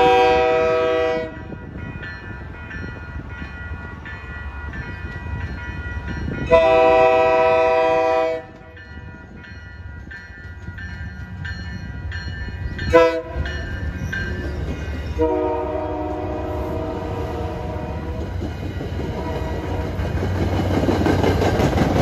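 An MBTA commuter rail train led by a bi-level cab car sounds several loud, blaring horn blasts of varying length over the steady rumble of the passing cars, with a sharp clank midway.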